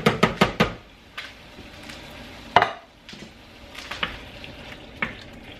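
Sizzling in a pan as canned diced tomatoes go in over cooking shrimp and summer squash, with a few sharp clatters at the start, then steady frying crackle and occasional stirring knocks, close and moderately loud.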